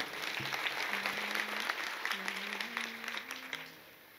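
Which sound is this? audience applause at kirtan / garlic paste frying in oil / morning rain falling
audience applause at kirtan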